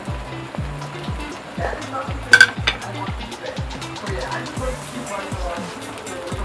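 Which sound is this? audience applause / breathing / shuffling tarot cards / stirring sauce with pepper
stirring sauce with pepper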